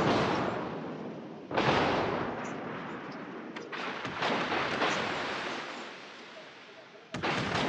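Naval guns firing in World of Warships, heavy booming salvos with rumbling decay, one big blast near 1.5 seconds and another near 7 seconds over continuous battle noise.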